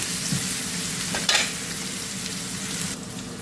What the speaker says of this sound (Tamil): பூண்டு கூட போட்டு இடிச்சிட்டேன் இது நல்லா செவந்து வரட்டும்